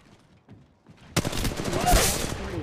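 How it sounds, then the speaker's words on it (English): Rapid automatic gunfire from the Apex Legends Mobile video game bursts in loudly after a quieter start and continues in dense, close fusillades under faint game voices. "I'm taking fire, brothers!"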